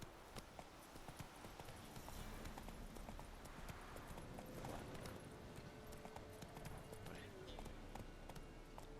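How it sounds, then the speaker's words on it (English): The horse mount in The Witcher 3: Wild Hunt gallops with rapid rhythmic hoofbeats, quiet and steady throughout under game ambience. "Get on our trusty Mount Roach and head back to the Bloody Baron's castle."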